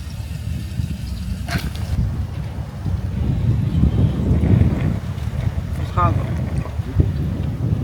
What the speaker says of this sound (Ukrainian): Вітер трохи дує і тут